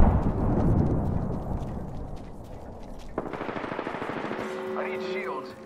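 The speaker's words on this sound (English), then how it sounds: "Ah, getting shot at." Gunfire in Apex Legends aimed at the player's character, with a dense, rumbling burst of shots up close, then steadier rapid fire joined by game tones and character voice lines.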